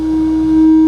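A test tone runs through a Boss DS-1 distortion pedal, holding as a single loud, steady buzzing pitch with clipped harmonics for under a second.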